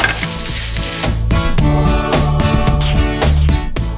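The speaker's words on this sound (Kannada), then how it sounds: "ಇದು ಸ್ವಲ್ಪ ಆರಬೇಕು ಒಗ್ಗರಣೆ." A South Indian tempering with curry leaves sizzles in hot oil for curd rice, crackling loudly and continuously under a bed of background music.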